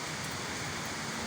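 Downpour of heavy rain in the Luzon area of the Philippines, heard as an unbroken wash of hissing noise at steady loudness, near and constant throughout.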